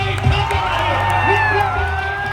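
Crowd cheering and whooping for a Gujarati superstar on stage at a Mini Ranuja event in Lalpur, a dense, steady roar with shouts throughout and a voice talking over it.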